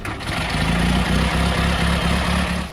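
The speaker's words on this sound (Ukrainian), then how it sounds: "Можна зафіксувати справжнє звучання машини." A vintage car engine idling close by with a rough, low rhythmic rumble, steady and loud with slight pulsing throughout.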